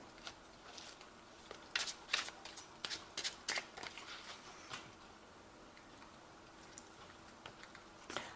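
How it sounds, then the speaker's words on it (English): Tarot deck shuffled by hand: a quiet run of crisp card riffles and taps, clustered near the start and then thinning out into sparse clicks. "I have shuffled this deck"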